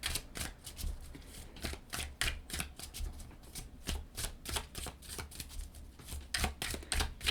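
Tarot cards being shuffled by hand in a tarot reading, a steady run of soft riffling and slapping bursts, close and fairly quiet, with no voices.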